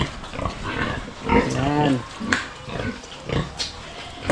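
Pigs on a farm let out several grunts and snorts, close by, mixed in with a person talking over them.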